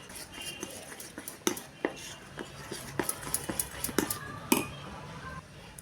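A utensil whisks dhokla batter in a bowl, giving irregular metallic clinks and taps against the rim over a soft swishing, close up and fairly quiet.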